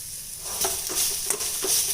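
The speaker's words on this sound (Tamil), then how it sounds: "எல்லாத்தையுமே இந்த எண்ணெயிலேயே வதக்கிடணுங்க." Tomatoes, curry leaves and asafoetida sizzle in oil for pepper rasam, a steady close frying hiss with a few stirring taps over a brief stretch.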